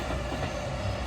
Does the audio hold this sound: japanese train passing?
yes